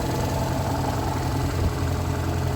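A 1.5-litre 16-valve car engine idling, a steady close rumble with an even low vibration and no talk.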